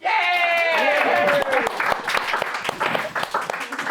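An audience at a poetry talk applauds introduced speakers with a dense burst of clapping that thins into scattered claps, while a voice speaks over the start.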